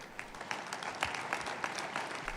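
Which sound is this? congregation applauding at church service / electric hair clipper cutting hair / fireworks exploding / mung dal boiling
congregation applauding at church service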